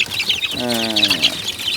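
A chicken gives one drawn-out, rising and falling cluck close by, over a background of fainter bird chirps, where American Brahma hens are kept.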